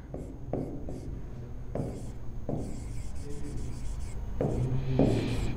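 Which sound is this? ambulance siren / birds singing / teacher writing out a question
teacher writing out a question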